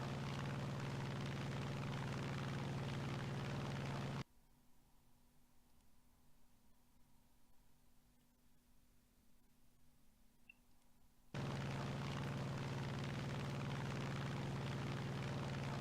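A P-47D-28 propeller fighter climbs in War Thunder with a steady droning engine. The drone drops to a much quieter, muffled hum partway through, then returns at full loudness.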